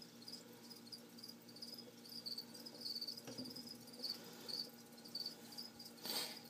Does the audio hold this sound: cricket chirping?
yes